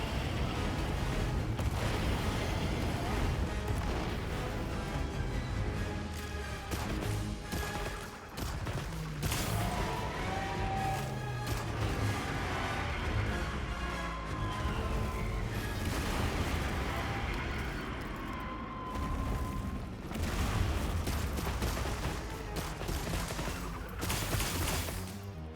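Explosions detonating in the video game Wilds: a dense, continuous barrage of booms and crackling blasts, loud and sustained throughout, with layered game music or effects beneath.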